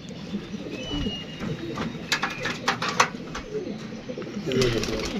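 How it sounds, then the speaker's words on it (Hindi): Pigeons coo softly amid a busy outdoor background, with voices talking and occasional clicks and bumps nearby. "गोल्डन कबूतर है"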